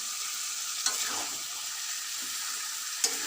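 Moringa drumsticks and potatoes hitting fried spice paste for a fish kalia make a constant close sizzle, punctuated by two sharp utensil knocks.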